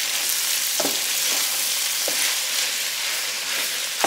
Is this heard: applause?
no